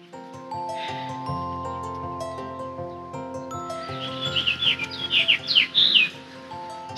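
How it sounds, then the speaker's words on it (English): House finch song near a home bird feeder, a quick run of bright squeaky chirps and warbles in the second half, fairly close, over soft music with no talking. "Did you hear that pretty bird song?"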